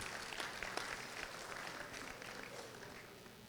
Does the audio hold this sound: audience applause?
yes